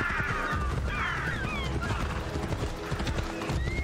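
Hooves clip-clop steadily in an Assassin's Creed Odyssey game scene while a horse whinnies in bursts, with game ambience and faint talk underneath.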